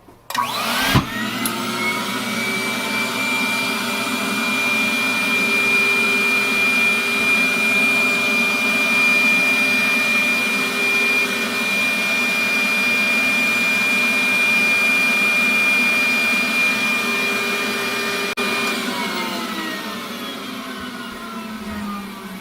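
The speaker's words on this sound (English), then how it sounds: "when it's down a bit I turn the vacuum on and drop it" A dental vacuum forming machine runs while an Essix retainer is made, a loud steady close whine with a constant tone that starts abruptly, holds for about twenty seconds and then winds down.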